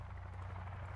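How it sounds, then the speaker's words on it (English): Steady, continuous helicopter rotor drone in the video game Sons of the Forest, with a low pulsing thump, loud and constant throughout the short moment. "It's a helicopter noise."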